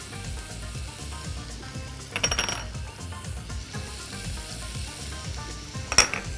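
Onions and spices fry in a pan with a steady close sizzle, broken by a couple of sharp metallic clinks of a utensil against the pan.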